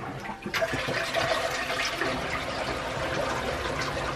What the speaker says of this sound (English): So let's do little flush.